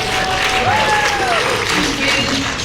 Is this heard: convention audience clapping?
yes